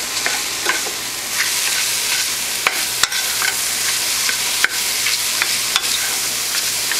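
Mushrooms with salt and spices sizzle steadily in a pan of butter for cream of mushroom soup, with occasional sharp clicks and scrapes of stirring over the continuous frying hiss.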